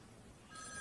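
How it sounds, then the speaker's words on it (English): A telephone bell starts ringing in a children's TV street set, the same store where someone answers for Mr. Hooper. The short, quiet ring begins just before the end, with no voices over it. "that's the phone."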